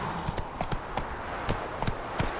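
Horse hooves clop in The Witcher 3, a steady, unhurried rhythm of distinct hoofbeats at close range over a low background bed.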